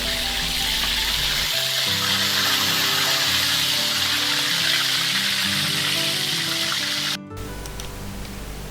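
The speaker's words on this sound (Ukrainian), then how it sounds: "І ну, досмажуємо рибку." Continuous sizzling of carp frying in a pan, steady and close, with a low hum underneath that cuts out near the end.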